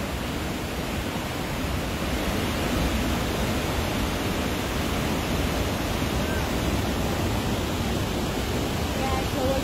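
Steady, loud roar of a waterfall at the Cave of the Winds near Niagara Falls, a dense unbroken rush of falling water filling the whole clip with no pauses.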